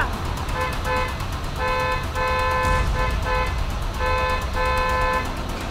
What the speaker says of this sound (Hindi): क्या बेकार में हॉर्न मार रहा है?